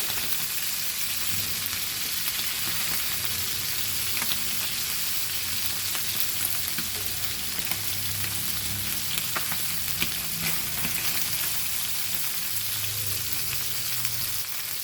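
Anchovy (mandli) fish frying in hot oil, a steady dense sizzle with soft crackles that stays loud and even throughout, with no voices.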